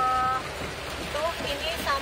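Storm wind and heavy rain in Yogyakarta, Indonesia, make a steady broadband hiss and roar throughout, with brief faint horn-like tones near the start and end.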